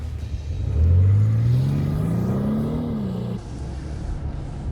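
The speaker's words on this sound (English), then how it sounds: "just listen to the purr of this engine" A BMW 840d diesel engine revs up with a low, rising hum, holding steady for a couple of seconds before dropping back to a quiet idle.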